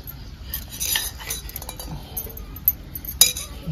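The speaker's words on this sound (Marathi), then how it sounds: "हे मिक्स करून घेणार मी सगळं।" A utensil stirs garlic, salt and coriander together in a metal bowl for chicken biryani, outdoors at a farm, giving scattered clinks and light scraping with a sharp clink near the end.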